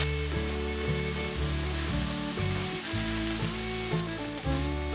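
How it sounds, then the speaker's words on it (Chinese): Carrot, cabbage and dried tofu are stir-fried quickly in a pan, giving a steady, close sizzle under continuous background music. "红萝卜已经变色了，放入高丽菜， 还有豆干， 快速的翻炒"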